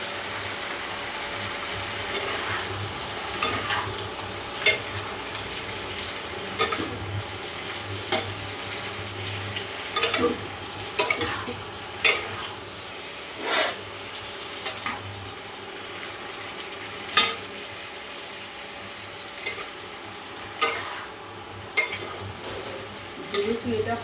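Spices being stirred in a frying pan for pulao, a steady sizzle under repeated sharp scrapes and clinks of a spoon against the pan at irregular intervals, close by, with no talk.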